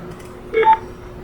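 Telephone keypad tones chirp briefly as someone dials in to join a committee meeting by phone, a short pair of beeps over a quiet room hum.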